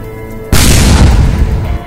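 A bomb detonates near the camera in Rangia, Assam, a sudden loud boom that erupts from quiet and leaves a dense, rumbling roar filling the rest of the clip.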